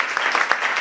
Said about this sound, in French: Je n'ai pas entendu ton acclamation